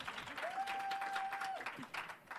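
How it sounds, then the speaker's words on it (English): A panel audience applauds steadily at a conference, the clapping fairly faint and even, with a sustained electronic tone running through part of it. "You can applaud."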